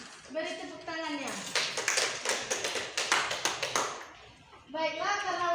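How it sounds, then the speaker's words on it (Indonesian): Hand clapping in a classroom during a lesson on human reproduction: a short burst of loud, rhythmic, evenly spaced claps, with a voice speaking just before it and again right after. "Beri tepuk tangannya."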